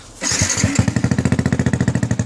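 Yamaha YZF motorcycle with an aftermarket exhaust starts up close by, catching after a brief crank and settling into a loud, steady, rapid idle thump that pulses evenly to the end.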